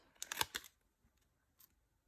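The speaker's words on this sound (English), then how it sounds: "I'm going to go ahead and hit this tag" Craft scissors cut across the bottom of a paper tag in a few quick, close snips, followed by a couple of fainter soft clicks in an otherwise quiet room.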